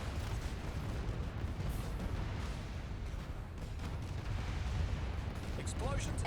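Explosions from enemies attacking a planet in the strategy game AI War 2 form a dense, low, continuous rumble of blasts and gunfire, steady and fairly heavy throughout, with a brief higher chirp near the end.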